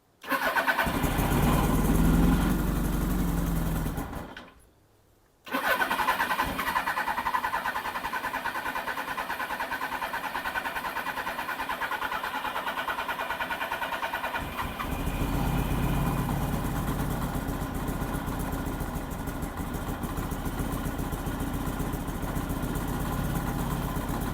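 A Suzuki GSX1100 motorcycle engine runs on choke with a steady, loud idle that drops out briefly near the start, then continues as a rich, rumbling idle with a slight shift in tone partway through; no talking.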